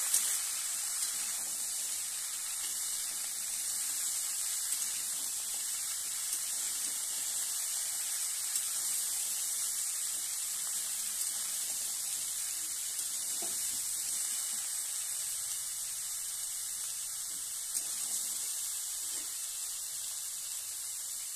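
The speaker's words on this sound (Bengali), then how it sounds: "এবার দিয়ে দিচ্ছি কেটে রাখা কুমড়োগুলো।" Cut pumpkin pieces go into a pan of frying potatoes, giving a soft, steady sizzling hiss that holds at an even, fairly faint level throughout without any speech.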